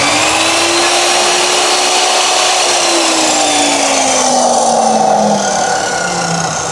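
A cutting disc machine runs loud and steady from the first moment, a continuous high whine with a slowly wavering pitch and no break in the sound.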